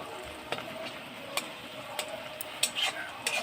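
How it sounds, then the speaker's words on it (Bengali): Sour spinach curry being stirred in a pan after sugar is added, giving soft scraping clicks and light taps at an irregular pace over a faint steady sizzle. "তো এবার চিনিটা দিয়েছি, তাই একটু নাড়াতে হবে।"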